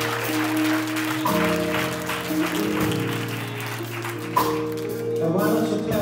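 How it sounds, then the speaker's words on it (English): Church congregation clapping during a worship service, a continuous dense patter of many hands beneath organ or keyboard chords, steady throughout with one sharper burst partway. "Come on, hand clap all over the building."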